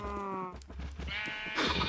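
Sheep in the video game Oceanblock 2 give a few short, close bleats in quick succession with no talking.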